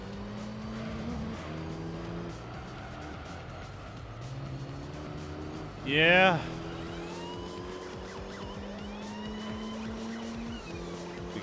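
Race car engine droning through gear changes in Gran Turismo 3 A-Spec, a steady thin motor tone with a brief loud squealing skid about midway, under occasional talk.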